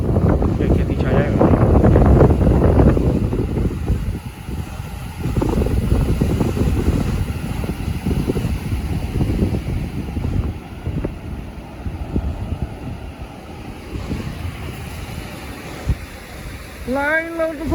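Wind gusts and waves breaking on Grandfather Beach in Myanmar, a loud broadband roar that surges at the start and then washes steadily, with some wind buffeting on the microphone and a faint tonal chirp near the end.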